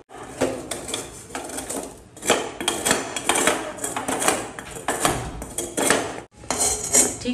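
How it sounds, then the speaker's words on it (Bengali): Metal scraping against a blackened, burnt karahi pan as the residue is worked loose: repeated rough, gritty strokes in an uneven rhythm, close and fairly loud, with a short pause near the end before the scraping resumes. "আস্তে আস্তে চেঁচে চেঁচে সবগুলো ময়লা উঠিয়ে নিব।"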